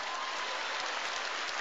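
Part of a comedy-club audience claps at a stand-up's prompt, dense continuous applause that stays loud and even, with a few heavier thumps underneath.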